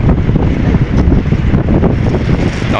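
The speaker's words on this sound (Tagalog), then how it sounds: "Lakas ng hangin. Lalo na siguro ito sa laot." Strong wind buffets the microphone at the ferry port of Lucena City, a loud, gusting low rumble that rises and falls irregularly throughout.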